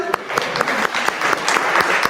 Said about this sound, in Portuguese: Um aplauso para o Joel Villarreal